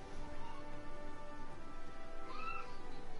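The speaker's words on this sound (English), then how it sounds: "Oh, they found my cat!" A cat meows in Monster Hunter: World, a single rising mewl over a steady game soundtrack and ambient hum.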